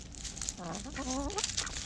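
Hens and a rooster cluck in a farm coop kept with ducks, a steady run of close, overlapping clucks and short calls with no talk.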